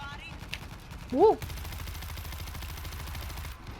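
Rapid automatic gunfire in the zombie shooter World War Z, a steady stream of fast clattering shots running through most of the stretch, with a short vocal exclamation near the start.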